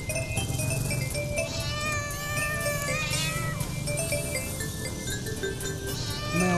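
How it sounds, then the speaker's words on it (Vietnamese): Cat-meow ringtone on a mobile phone, a loud series of drawn-out, wavering meows in quick succession over a noisy background. "Mèo kêu là vợ gọi."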